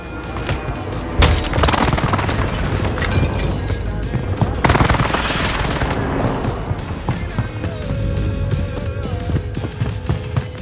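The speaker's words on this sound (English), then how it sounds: "Enemy precision airstrike." Enemy precision airstrike explosions land in Warzone on Fortune's Keep, with heavy booms at irregular intervals mixed with gunfire crackle and a continuous, loud battlefield rumble.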